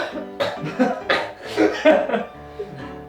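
A string of rough, repeated coughs or cough-like bursts, close and fairly loud, with a bit of laughter mixed in.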